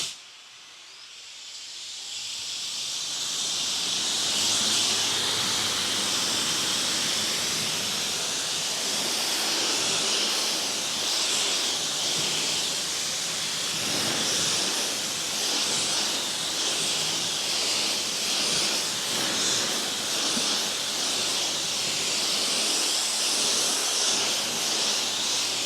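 A Tecology permanent magnet motor pressure washer sprays water at 1000 PSI, a loud, steady hissing rush that builds in the first seconds and then holds constant, with a faint motor hum underneath.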